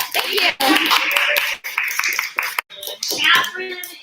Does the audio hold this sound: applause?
yes